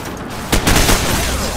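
A single loud, sharp gunshot blast in Call of Duty: Modern Warfare, followed by a brief rumbling echo as it fades.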